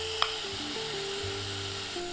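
Beef fries in sesame oil over medium-low heat, a quiet, even sizzle with one small sharp tap near the start and soft background music underneath.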